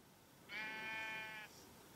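A Minecraft sheep gives a single bleat, one wavering tonal cry lasting about a second over a faint background.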